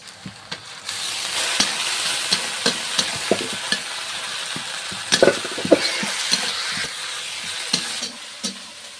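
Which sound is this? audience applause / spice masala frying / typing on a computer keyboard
spice masala frying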